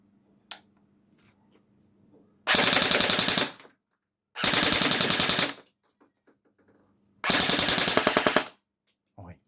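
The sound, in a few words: MP5 gun firing on full auto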